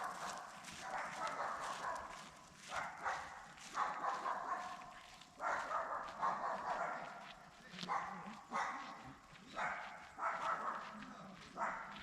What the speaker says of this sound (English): 2 dogs that were off leash